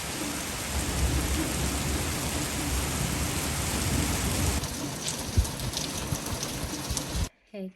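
A thunderstorm with heavy rain pounding on surfaces and rolling thunder, a dense, loud and continuous wash that thins out briefly near the end.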